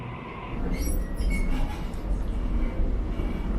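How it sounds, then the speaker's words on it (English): A Sydney train rolls past on its rails, a steady loud rumble with faint metallic squeal and clinking of wheels, close and continuous with no talk. "If you're not from Australia, bro, this is what our trains look like."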